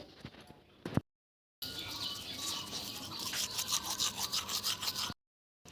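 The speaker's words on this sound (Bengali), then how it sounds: "তো চলো এখন যাব ব্রাশ করতে" A toothbrush scrubs teeth in quick, wet, rhythmic strokes, close and fairly quiet. The brushing comes in short sections split by brief silent cuts, with faint bird chirps in the background.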